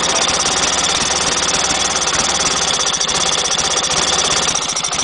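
A 1990 Montgomery Ward 16/42 lawn tractor's 16 hp twin-cylinder engine runs loud and steady at close range, a continuous uneven chugging with a knocking edge that holds throughout.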